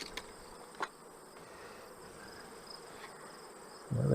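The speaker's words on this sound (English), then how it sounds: "Well, there's bees there." Honey bees at a beehive make a faint, steady insect hum close by, with a few small clicks and a louder thump at the very end.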